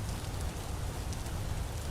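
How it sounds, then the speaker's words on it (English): Rain falls in the video game Vintage Story as a faint, constant hiss that carries on without any letting up. "it's been raining a lot and I'm no longer soaked"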